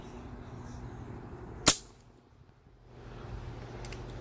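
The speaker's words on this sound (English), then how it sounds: "Two more shots." A single sharp gunshot cracks out through a Ramus silencer moderator, loud and close, followed by a brief fading tail and quiet background hum.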